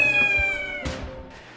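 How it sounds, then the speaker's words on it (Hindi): Kittens brought along to court hearings let out one loud, close, drawn-out meow that breaks off sharply, followed by a fainter cry. "फरीहा हर पेशी पर बिल्ली के बच्चों को भी साथ लाती हैं"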